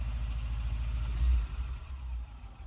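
Car engine revving after a rear muffler repair, a loud low rumble that swells into a brief harder rev near the middle, then settles back to a steady throaty idle, close to the microphone with no talk.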